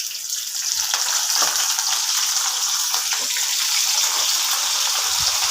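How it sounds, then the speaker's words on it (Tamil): Curry leaves and other ingredients frying in a pan for a home-cooked lunch, giving a steady, loud hiss and crackle with small bubbling pops throughout and no talking. "நல்லா கொஞ்ச நேரம் நல்லா ஃப்ரை ஆகுது ஃப்ரெண்ட்ஸ்"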